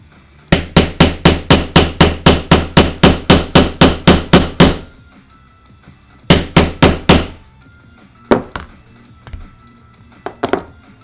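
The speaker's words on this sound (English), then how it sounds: "you can hear my tapping getting picked up in his microphone upstairs" Hammer tapping on leather for a cosplay harness: a quick run of about eighteen sharp, evenly spaced strikes, a pause, then four more and a few scattered knocks, close and loud with no talk.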